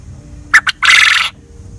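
A coturnix quail's crow: two short sharp chirps followed by a longer buzzy trill, fairly loud and close, with no other sounds around it.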